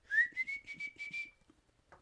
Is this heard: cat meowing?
no